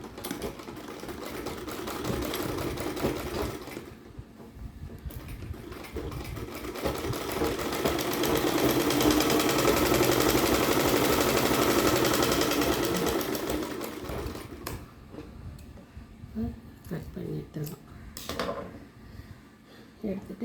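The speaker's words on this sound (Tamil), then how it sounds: "இப்படி வச்சு தைச்சிக்க வேண்டியது தான்." A sewing machine stitches fabric in a steady, close mechanical run lasting about fifteen seconds, with a few short bursts and clicks after it stops, and a voice speaking over it.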